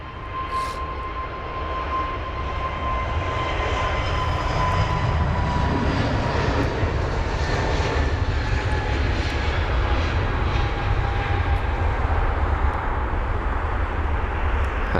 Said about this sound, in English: The A321neo finally on the move.